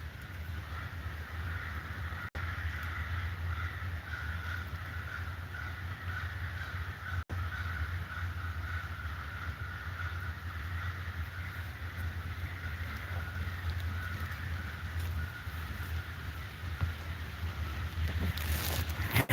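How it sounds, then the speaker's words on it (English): Crows cawing outdoors in alarm at a nearby threat, calls fairly distant and faint over a steady low background hum and wind, with no talking. "crows will make all that noise to warn other crows of a threat in the area"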